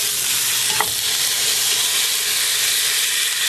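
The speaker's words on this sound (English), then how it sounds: "the meat can lay down on the bottom of the pan while it's searing" Beef shank searing in a pan, a steady close frying sizzle and hiss that holds level throughout, with a brief stir or clink near the start and no voices.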